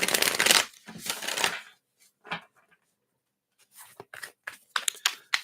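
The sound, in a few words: shuffling spirit animal oracle cards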